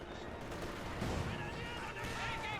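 Machine-gun fire from an MG-42 during a 2v2 Company of Heroes 2 match, heard as fairly faint, dense rattling bursts mixed with battle noise and some background talking.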